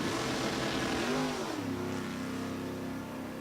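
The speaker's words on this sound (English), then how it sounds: "Rolls in that big block 69 Camaro out of Ohio City." Big block 1969 Camaro Super Street drag car revving at a raceway, a loud throaty engine roar that rises in pitch then settles into a steady rumble.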